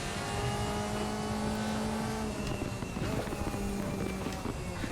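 Mercedes AMG DTM race car in the RaceRoom racing game, its engine holding a steady loud drone that shifts pitch partway through as the car changes speed, continuous and close throughout with no talk.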